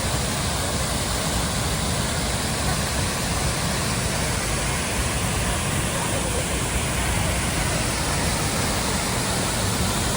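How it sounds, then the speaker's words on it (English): Spearfish Canyon Falls in the Black Hills of South Dakota roars as a constant, dense, full-spectrum rush of falling water heard up close, steady and loud for the whole stretch with no talk. "main waterfall we came down to see"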